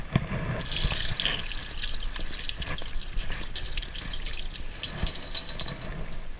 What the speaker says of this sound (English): Rinse my hands one more time.